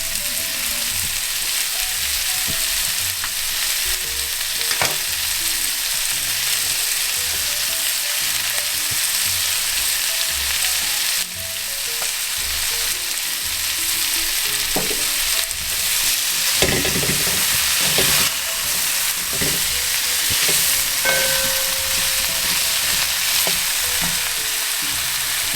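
Onions sizzle in a pan for curried duck, a loud, steady frying hiss that runs throughout with occasional clicks and scrapes as they are stirred.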